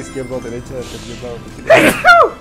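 Someone speaking Spanish is cut off by a sharp, close sneeze with a loud voiced burst, followed by a second quick vocal squeak, loud against the preceding talk.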